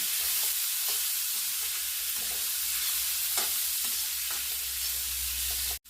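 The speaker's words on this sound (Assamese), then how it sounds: "মই 2-3 মিনিটমান এনেকৈ ভাজি ল'ম।" Fish head frying in oil with turmeric, meat masala and garam masala, a continuous even sizzle with soft stirring sounds, ending in a sudden clunk.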